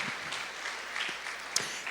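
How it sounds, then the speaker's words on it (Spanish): Applause from a church congregation offered as an ovation during a sermon, a dense wash of many hands clapping at a steady moderate level for about two seconds, with one sharper burst near the end. "Dele una ofrenda de palmas al Rey de Reyes."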